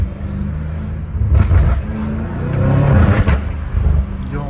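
A 617 hp BMW M5 Competition on a Los Angeles street, its engine rumbling low and loud up close, swelling with a rev midway and holding a heavy drone toward the end, with no one speaking.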